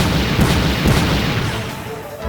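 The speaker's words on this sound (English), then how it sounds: "Fire glide missiles!" Glide missiles fired in the video game Mega Man Legends 2, a dense, continuous rumbling barrage of booms and blasts that stays loud throughout the short burst.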